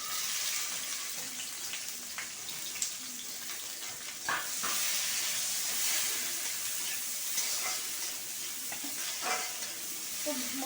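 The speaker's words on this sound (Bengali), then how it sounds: "রসুনটা ভাজা হয়ে যাওয়ার পরে আমি পেঁয়াজগুলো দিয়ে দেবো" Sliced onions fry in a pan after garlic, giving a soft, steady sizzle and hiss with occasional scraping stirs and little crackles, heard close and alone without talk.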